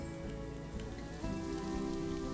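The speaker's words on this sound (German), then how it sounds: "Ah, es regnet" Rain falls in the zoo-building game Planet Zoo as a soft, steady patter under a faint tonal game background, quiet and continuous with no speech.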